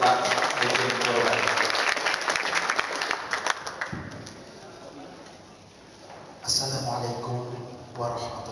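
Applause from a debate audience as a speaker, a religious teacher, is invited to the stage, a broad steady clatter of clapping that tapers off partway through before voices and a microphone take over.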